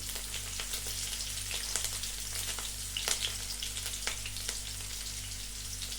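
Green and dried red chillies frying in hot oil, a steady close sizzle with scattered pops and crackles, running without a break under a low constant hum.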